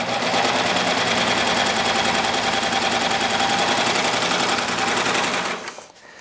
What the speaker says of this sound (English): we're going to sew a beautiful satin edge with the jean stitch